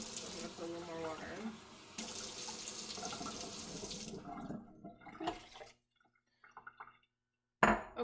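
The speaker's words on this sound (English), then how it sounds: "I'm going to put a little more water" Tap water runs into an electric pressure cooker for pasta e fagioli, a steady filling stream that shifts in pitch, then cuts off, followed by a few drips and a sharp clink at the end.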